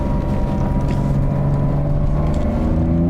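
A Porsche engine at a sports-driving clinic gets a quick throttle blip mid drift turn, a steady loud droning roar with a rising pitch, close and continuous with no talk.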